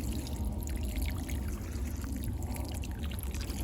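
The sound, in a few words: water poured onto transplanted ranunculus plants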